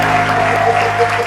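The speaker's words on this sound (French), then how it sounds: "On applaudit pour Awa." An audience breaks into brief applause for a girl named Awa, a short burst of clapping from a crowd with a steady tone running beneath it.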